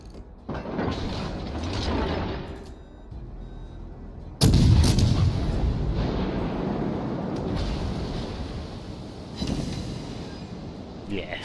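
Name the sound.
warship naval artillery salvo firing in World of Warships video game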